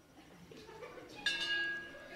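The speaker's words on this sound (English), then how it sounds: "So listen for the bell." A bell rung by a pastor at an evening church gathering, struck once at mid-clip and ringing on with a bright, sustained tone after a faint murmur in the room.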